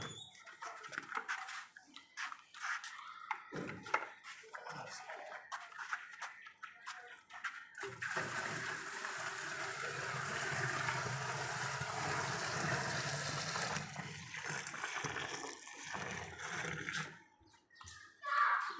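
Water pours steadily into a motor-driven liquid mixer with a Japanese gear motor running on single phase, set up for making dish wash liquid. The rushing flow runs for several seconds with clattering handling noises before and after.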